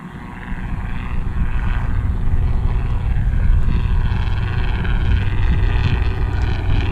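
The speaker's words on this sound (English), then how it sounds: "Got a little R-22 helicopter, Robinson, flying overhead." A small Robinson R-22 helicopter passes overhead, its steady rotor and engine drone loud and continuous without pause, with no talking.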